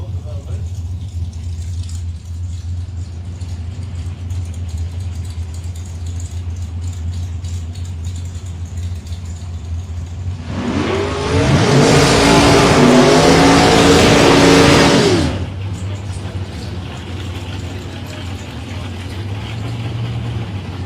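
Drag cars including a 557-cubic-inch Ford Mustang launch at a raceway, a loud roaring burst of engine noise lasting several seconds that rises over the steady crowd and track ambience, with a commentator talking throughout.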